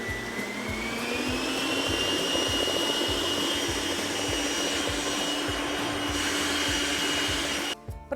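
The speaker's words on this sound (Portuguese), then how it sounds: "Enquanto ele ainda está quente, ele vem para a batedeira rapidamente e vamos bater, aumentar a velocidade" An electric stand mixer runs at high speed beating hot sugar syrup into meringue, a loud continuous whine that rises slightly in pitch and holds steady before cutting off with a clatter.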